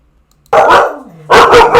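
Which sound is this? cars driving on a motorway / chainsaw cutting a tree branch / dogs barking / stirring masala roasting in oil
dogs barking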